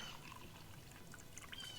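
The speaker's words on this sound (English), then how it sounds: "we're going to take some water, and we're going to fill this up with water" Water pours into a colored cup with a soft, steady splashing trickle. It is faint and continuous, with a few small bright drips and gurgles over it.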